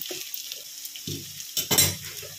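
Onion with ginger and chilli fries gently over a low flame, giving a soft, close sizzle with a few clinks and scrapes of a spoon against the pan.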